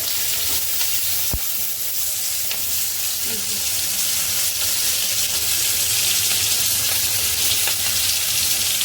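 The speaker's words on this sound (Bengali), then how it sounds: "তো বন্ধুরা এবার কালো জিরে ফোড়ন দিল কালো জিরে দিলে দইটি আর এবার কাঁচা লঙ্কা" Black cumin seeds and green chillies fry in hot oil with a loud, steady, close sizzle and hiss that runs throughout, one sharp knock near the start and faint talk in the background.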